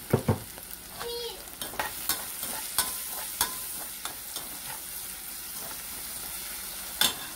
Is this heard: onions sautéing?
yes